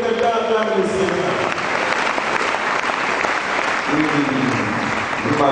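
A church congregation applauds and cheers steadily, a dense wash of clapping filling the room throughout, with voices shouting and singing out within the crowd noise.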